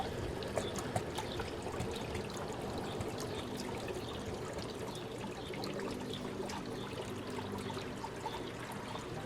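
Water gushes from a pool sand filter's drain during backwashing, a continuous faint trickling pour with no voices.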